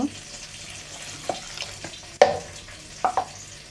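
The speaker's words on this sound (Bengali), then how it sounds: "এখন আমি এর মধ্যে কিছুটা পানি দিয়ে দিব" Water added to vegetables with turmeric and salt in hot oil in a village kitchen pan, a steady soft sizzle broken by a few sharp clatters and splashes close by, with no voices.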